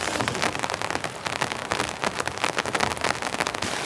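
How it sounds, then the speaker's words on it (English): Persistent heavy rain drums on a camping tent in a dense, crackling patter of countless drops, loud and close, with no voices. "We've got a nice persistent rain coming down now"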